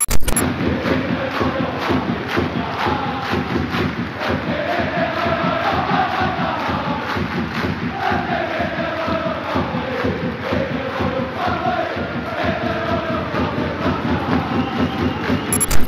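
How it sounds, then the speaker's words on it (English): Celtic football fans chant together in a crowd, a dense rhythmic mass of voices with steady claps running under the singing throughout. "We saw Celtic fans, the football team, chanting, "If you hate the royal family, clap your hands.""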